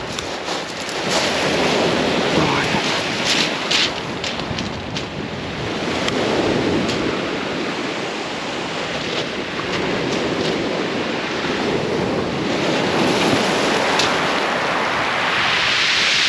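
Surf breaks and rushes continuously on the shore at Milford on Sea beach while strong wind buffets the microphone, a loud, steady roar with no speech.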